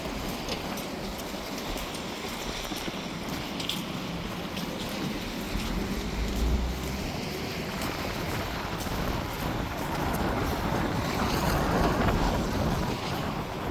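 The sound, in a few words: strong wind blowing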